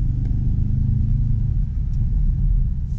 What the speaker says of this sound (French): Alors là on va se mettre en sport plus. Il a ouvert les échappements, etc.